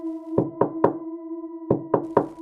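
Soft, quick knocking on an old hotel room door in Puncak, Bogor: two close bursts of three light raps separated by a pause, over a steady low hum.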